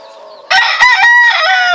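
An Asil rooster crows loudly and close by in one strong, ringing cock-a-doodle-doo lasting over a second, with a quieter cluck just before it.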